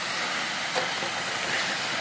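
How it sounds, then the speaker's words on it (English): An ice dam steamer sprays true steam onto a roof in Duluth, Minnesota, making a steady, close, broadband hiss that holds throughout with no talk. "you can see we're using true steam"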